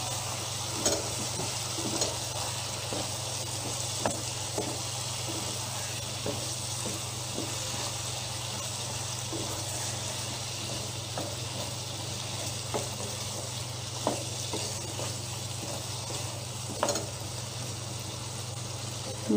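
Meat frying and being stirred in a pan, a steady broadband sizzle with scattered clicks and scrapes of a utensil throughout, close and continuous with no talk.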